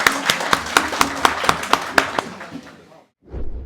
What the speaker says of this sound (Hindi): अपने लिए ताली बजा लो सब लोग।